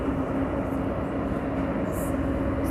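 A passenger train rumbles along steadily during a ride, its low, continuous roar filling the space from inside the carriage, with no clear speech over it.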